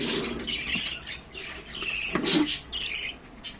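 Pet budgerigars, a cobalt blue, a grey and a spangle, with three chicks, chirp and chatter up close in bursts of bright, scratchy tweets separated by short pauses.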